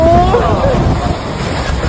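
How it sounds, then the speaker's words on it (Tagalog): Strong typhoon wind gusts roar steadily outdoors, a loud broadband rush that fills the whole stretch, with a brief voice near the start. "Ang lakas ng hangin!"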